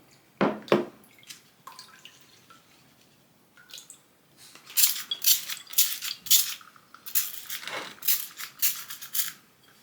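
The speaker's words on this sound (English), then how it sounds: "I'm just going to spritz it with the neem oil as well" A handheld spray bottle misting neem oil onto an Anthurium leuconeurum, a run of short, hissing spritzes in an uneven rhythm, close by, after a few faint clinks.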